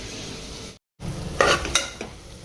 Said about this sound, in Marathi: आता बटाटे कांदे आपले शिमला मिरची वगैरे टाकली आहे सु आपला सुरूची मसाला पण टाकलेला आहे बिर्याणी मसाला छान परतवलं